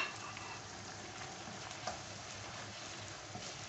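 Eggs frying in a pan for egg chilli: a soft, even sizzle, fairly faint and unbroken, with a couple of small crackles.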